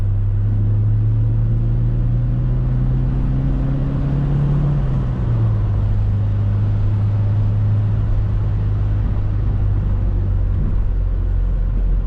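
A carbureted, naturally aspirated 2.0-litre Nissan engine drones steadily while driving on a gentle hill, a loud continuous low hum whose pitch rises slightly, then drops and settles, with no talk over it.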